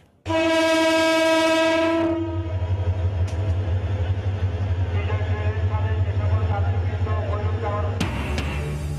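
A departing train sounds its horn with a loud, steady tone for about two seconds, followed by the continuous rumble and clatter of rail cars rolling past, close by and filling the scene.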